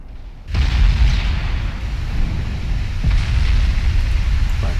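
Naval gunfire from the cruiser London in the Ultimate Admiral Dreadnoughts game: a sharp onset into a sustained loud, rumbling low roar, with another boom near the three-second mark and no voices.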